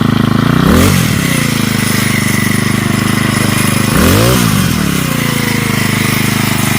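A grass trimmer with a worn drive shaft, its blade not spinning, runs close and loud at a steady drone. The engine is revved up twice, a few seconds apart, and a knocking noise comes from the shaft.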